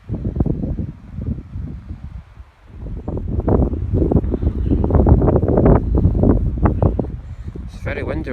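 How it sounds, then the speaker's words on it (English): Strong gusts buffet the microphone on a seaside golf course at North Berwick, a loud, rumbling roar that swells and dips, with someone speaking over it. "It's very windy on here"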